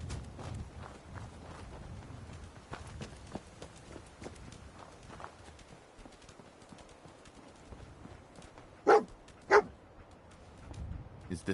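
In the Fallout 4 video game, soft scattered footsteps shuffle along before a dog barks twice, sharp and close, in quick succession.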